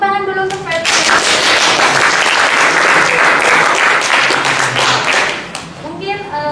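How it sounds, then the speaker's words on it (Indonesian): An audience applauds a guest speaker named Patrick at an alumni gathering, a loud, full round of clapping that swells in and fades after about five seconds, with brief voices at either end. "mungkin sebelum bisa tepuk tangan dulu untuk Patrick"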